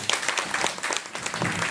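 Audience clapping at a Guru Purnima satsang gathering, a steady burst of applause from a crowd lasting under two seconds with no talking.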